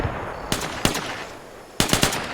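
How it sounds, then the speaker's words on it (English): Mines detonate in the Arma 3 military simulation game as loud, sharp blasts in irregular bursts over a steady noisy background, with several close reports in quick succession. "I think some mines just blew up"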